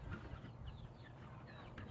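Chickens on a small farm cluck faintly in the distance, with a few soft, scattered calls over a low background murmur and no clear speech.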